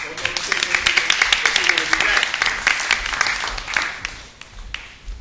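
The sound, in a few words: applause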